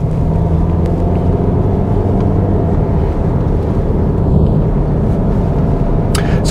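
Car engine pulling steadily out of a corner during an advanced driving run, a loud, continuous low rumble from inside the cabin with no talk.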